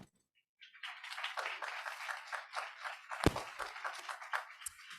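Scattered clapping from an audience honoring veterans at a giving event with a symphonic band, starting after a short silence and continuing at moderate, uneven loudness with a sharp thump midway.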